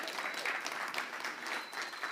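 A crowd of guests at an iOS app launch party claps continuously, a thick wash of many hands at moderate loudness with no pauses.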